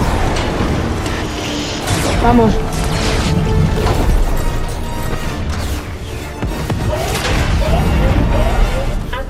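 Loud booms, crashes and impact blasts from a Fortnite live event laser strike run throughout, mixed with game effects while players talk and shout over them.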